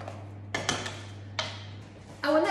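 Spoon mixing a capful of vanilla into cake batter in a bowl, a few distinct scraping clinks against the bowl separated by pauses, over a low steady hum.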